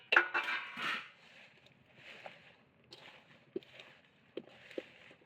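Mango pickle pieces tossed with mustard powder give soft scraping and occasional light knocks against a vessel, faint and intermittent with a few sharper taps, after a louder rustling burst at the start.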